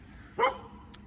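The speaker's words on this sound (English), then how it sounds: "Sorry about the dog" A single short dog bark, fairly faint and somewhat distant, followed by a brief high squeak, against a quiet background.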